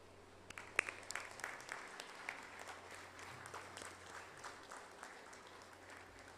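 A room full of people claps steadily for several seconds, with scattered sharper claps standing out over the even patter.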